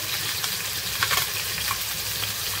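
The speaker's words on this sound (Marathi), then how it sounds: "त्याच्यात आपण हे वाटण टाकूया। खोबरं, लाल मिरची" A paste of ground coconut, red chili and garlic sizzles and crackles in a hot pan, a steady fizzing with a few sharper spits as it is stirred, no talking.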